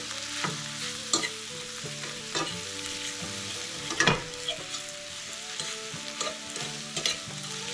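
Flour-coated food fries in a pan while being stirred, a continuous sizzle under irregular scraping strokes and one louder clatter midway, close-up with no talking.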